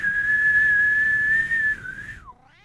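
One long, steady shrill note from a blown party whistle that wavers slightly and then drops sharply in pitch as it ends, close and loud with nothing else heard.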